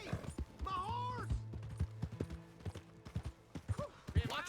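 Horse hooves clip-clopping in the video game Red Dead Redemption 2, a rhythmic series of hoof strikes under in-game character voices and shouting, with a whinny-like tonal sound mid-clip.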